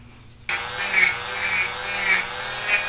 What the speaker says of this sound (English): So I'm gonna cut a groove right in there with the Dremel